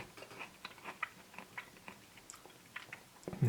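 Someone chews a tomato slice taken from a Burger King Christmas Whopper: soft, irregular wet bites and mouth clicks, close and fairly faint, with no talking.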